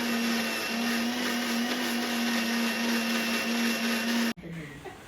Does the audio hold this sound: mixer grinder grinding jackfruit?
yes